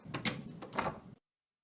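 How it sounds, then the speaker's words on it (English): A door being closed quietly, a short soft scrape and muted latch sound lasting about a second, then silence. "stepped outside, quietly closing the door behind herself."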